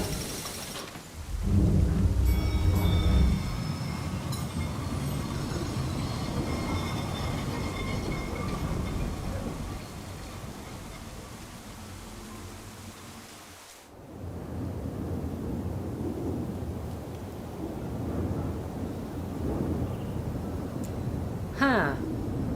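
Thunderstorm on a mountain in the video game Syberia: The World Before: a steady roar of wind and rain with low rumbling thunder, a loud burst near the start, continuous throughout, with a brief voice in places.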